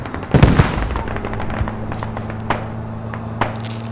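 Gunfire in Squad, a close burst of shots at the start followed by scattered fainter distant cracks, alone without talk.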